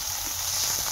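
Ginger and cumin paste hitting hot oil where onions have fried red, giving a steady close sizzle and hiss that holds evenly throughout, with no talking.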